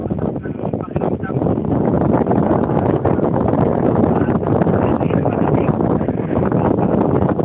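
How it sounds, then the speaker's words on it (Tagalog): Sea breeze blowing by the seaside in Abu Dhabi, a steady loud rushing wind buffeting the microphone without a break, with a person talking through it. "At ikaw ay napapaligiran mo sa sarap simoy ng hangin"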